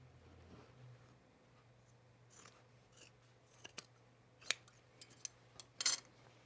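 Scissors trim the back seam of a sewn pajama top, a series of faint, quiet snips and fabric rustles that grow crisper and more frequent toward the end.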